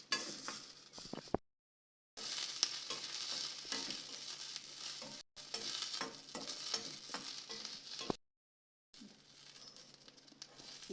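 Green chillies frying in a pan, a close, steady sizzle with stirring and crackle, broken by a few short silent gaps.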